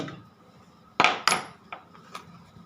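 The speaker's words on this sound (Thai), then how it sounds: "เราก็มาตอก ตัวนี้ ตอกก็คือต้องตอกจากตัวหลังก่อนนะตอกจากตัวหลัง" A hammer strikes metal eyelets into canvas shoe fabric, giving two sharp, loud metallic blows close by, followed by a couple of lighter taps, with no talking.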